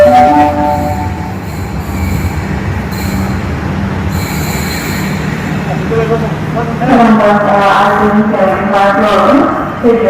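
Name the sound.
Palembang LRT train running on rails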